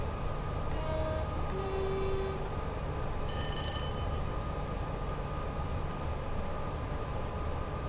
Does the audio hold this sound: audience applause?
no